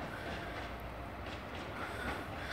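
A train pulls out of Worcester Shrub Hill station, a steady low rumble of wheels and rolling stock heard from the platform, moderately distant and without talk.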